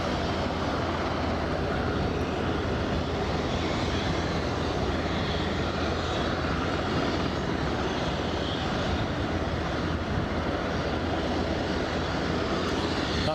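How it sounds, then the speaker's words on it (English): A KLM Boeing 737-700 jet on final approach into Aberdeen airport, inbound from Amsterdam Schiphol, produces a steady, broadband engine roar that holds at an even level throughout, heard from a distance with no voices. "That's somebody being KLM inbound with a 737-700 inbound from Amsterdam Schiphol"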